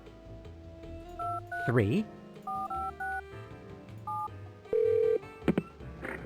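Telephone keypad tones in the Spy Fox "Dry Cereal" video game, a run of short separate beeps dialing a number, with a brief spoken word and a sliding voice sound between them.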